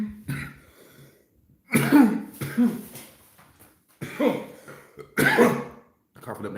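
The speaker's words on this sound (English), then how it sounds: "Coughing up that mucus too." A man coughing up mucus while he has a cold: several harsh, wet coughs and throat-clearing bursts in uneven clusters, close and fairly loud, with breathy gaps between them.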